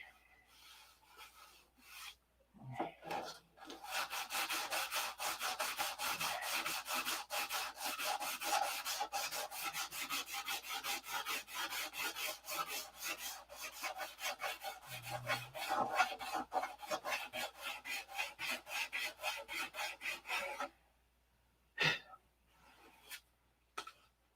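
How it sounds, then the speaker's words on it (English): Balsa-type model P-47 airplane wings being sanded by hand, a close, rapid rhythmic rasping of back-and-forth strokes that runs for about eighteen seconds, then stops, followed by a few isolated knocks. "As this is drying, I can sand on the wings, then put a coat of dope or whatever."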